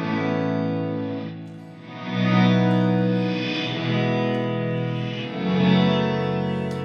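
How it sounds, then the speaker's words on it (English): An electric guitar runs through a reverse reverb effect on a Strymon BigSky or Neunaber Illumine reverb pedal, making sustained, swelling chords that rise and fade in slow waves, with no talking. "Reverse reverbs that are really cool."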